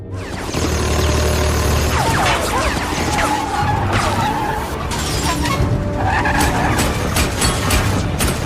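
An action-film car chase as a car swerves off the highway: loud tire screeching and skidding over a roaring engine, with scattered impacts and a dense, continuous, close-up soundtrack.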